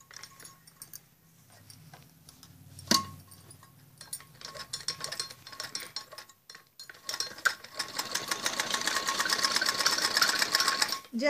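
Rapid, even mechanical chatter of a sewing machine stitching a curved seam on a padded blouse, close and fairly quiet, running in bursts and pauses before a longer steady run toward the end.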